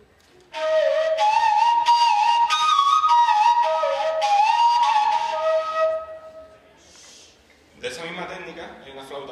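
A breathy, long Romanian cane tube flute plays a wavering, sustained melody for several seconds, then fades, followed by a brief different sound near the end.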